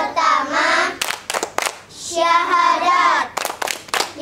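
Children at a Quran learning center clap a rhythmic chant, sharp bursts of hand claps in a patterned beat alternating with their sung, spoken chanting voices.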